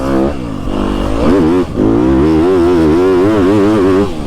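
A 2025 YZ250FX dirt bike engine revs up and down close by, its pitch climbing and falling in loud, rough bursts.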